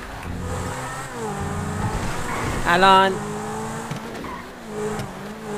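A Lamborghini revving and accelerating in GTA role play, the engine note rising and falling in loud sweeping pitch glides with a brief tire squeal midway. Someone speaks Persian over it.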